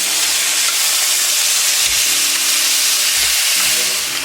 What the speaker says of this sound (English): You just need to sear it.